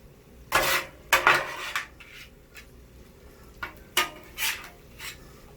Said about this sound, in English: Gotta make sure it gets stirred in and melted real good